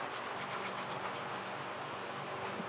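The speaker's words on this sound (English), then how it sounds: "I'm gonna finish it off with a 800 grit" Hand sanding with fine 800-grit sandpaper on a firefighter radio strap: a steady, soft, close rubbing scrape with gentle repeated strokes, fairly quiet and without talk.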